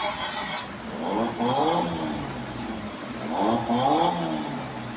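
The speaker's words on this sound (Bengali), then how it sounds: "এটা আপনার অন হওয়ার সাথে সাথে সুন্দর একটি সাউন্ড আসে, যে বাইকটি অন হচ্ছে একটা সাউন্ডটা আসে" An RFL electric motorcycle switching on, giving a synthetic startup tone with two rising and falling sweeps repeated in a pattern, clear and moderately loud over a quiet background.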